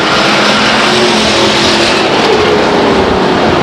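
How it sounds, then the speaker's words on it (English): Pure stock race cars circling the Stockton 99 Speedway make a loud, continuous engine roar with a steady drone throughout and no talking. "Car going around"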